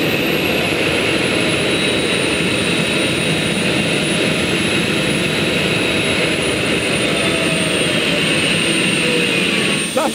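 A 1968 Howmet TX gas-turbine race car accelerates hard down a straight, giving a loud, continuous turbine roar with a steady high-pitched whine that holds for the whole stretch.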